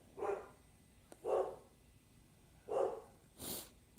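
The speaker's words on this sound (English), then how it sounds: "Oh, my dog. You hear my big mouth, Bubba?" A dog barks four times, single deep woofs spaced about a second apart, fairly close and clear against a quiet indoor background.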